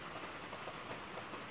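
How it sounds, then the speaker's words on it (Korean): Steady heavy rain falls on a hard surface outdoors at a farm where barley is laid out to dry, a dense continuous patter with no voices. "제법 많이 와요, 비가."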